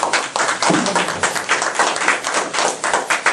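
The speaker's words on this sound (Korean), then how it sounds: "박수 쳐줘도 됩니다" An audience at a mind-healing talk for small business owners bursts into brief, dense clapping that stays loud and steady for a few seconds.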